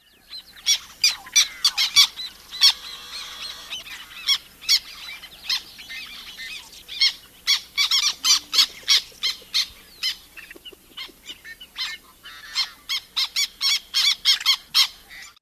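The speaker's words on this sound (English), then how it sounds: "a harsh, squeaky, squawky kind of noise" Harsh, squeaky squawks of a marsh bird on a prairie wetland, repeated in a steady run of short, sharp calls, fairly close and clear with no talking.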